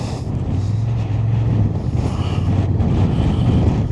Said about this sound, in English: it's very, very breezy today.